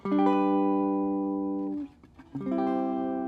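A sustained bright synth chord holds, breaks off briefly, then resolves to a new chord; a dominant seventh moving to a major chord, clear and close.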